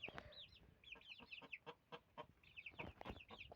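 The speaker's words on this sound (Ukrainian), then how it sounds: "Курка." Chickens clucking and chattering nearby in a busy, irregular stream, several birds calling over one another with no speech.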